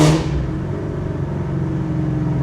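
Ford Shelby GT350 engine blipping its throttle: a brief sharp rev at the start that drops quickly into a steady, mid-pitched engine drone, heard alone without talk.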